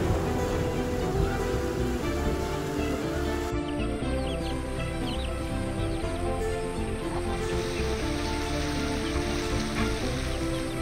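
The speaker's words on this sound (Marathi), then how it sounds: "कानात पावसाचा हवा हवासा आवाज" Monsoon rain falls steadily in the Konkan countryside, a dense, continuous hiss that is loud and close, with birds calling faintly through it.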